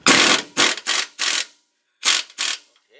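A stubby 18 mm ratchet wrench works a rusty rear shock bolt on a 2000 Ford Ranger, giving six sharp, close clicking bursts of pawl ratcheting with a brief pause before the last two.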